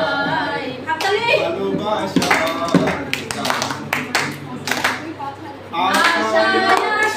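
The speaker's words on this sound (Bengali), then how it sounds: "হাততালি।" A group at a workshop bursts into clapping, several loud close rounds of hand claps breaking out between stretches of singing and talk.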